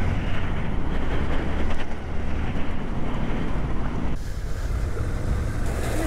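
An adventure motorcycle, Yamaha Tenere or Suzuki V-Strom DE, rides through water puddles, giving a continuous rushing splash and spray under wind buffeting on the microphone, loud and close throughout.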